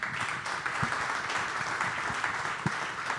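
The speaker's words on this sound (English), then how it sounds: "Everyone give them a round of applause." A conference audience applauds the speakers after a panel on energy storage, a sustained, even crowd clapping with a few louder nearby claps standing out.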